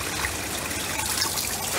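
Water trickles steadily as it fills an aquaponics tank beneath a drain, a continuous close splashing wash with no voices.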